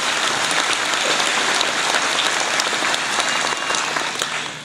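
A university commencement audience applauds at Southeastern Oklahoma State University, dense, continuous clapping filling the hall before tapering off at the end.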